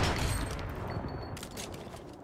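Rapid volleys of gunfire in a shooter video game, a dense, sustained crackle of overlapping shots that gradually thins, with faint mechanical clicks and tones mixed in.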